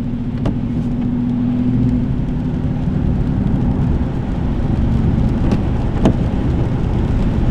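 Rain patters steadily while a Dodge Challenger drives, blended with a low, constant road and engine rumble heard from inside the car, with a few sharp knocks and no talking.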